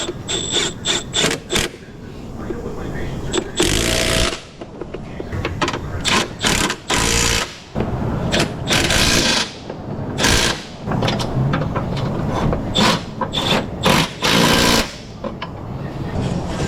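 Rapid bursts of hammering strike a motor mount from behind on a Toyota Corolla with 200,000 miles, loud metallic blows repeating in clusters with short pauses between.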